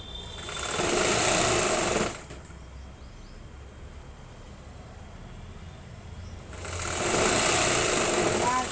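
Sewing machine stitching in a beginner tailoring class, two bursts of steady close whirring with a quieter gap between them.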